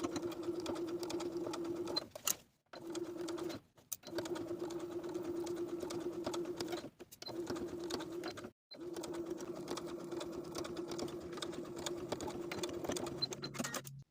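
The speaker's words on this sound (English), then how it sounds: "I'm going to stitch in the ditch from the outside of the garment all around the top of the waistline." Sewing machine stitching in the ditch around a skirt waistline, a steady humming run that stops briefly several times and then resumes, close and even, with no talking.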